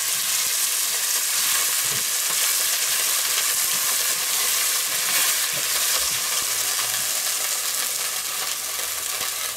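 Black Angus beef searing in a pot, a loud, dense sizzle and hissing fry running continuously for several seconds, close-up with faint stirring and no talk.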